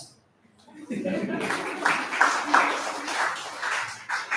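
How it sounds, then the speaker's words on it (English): An audience at a national English seminar breaks into sustained clapping that swells and then settles, with a voice speaking over the applause. "Give me claps."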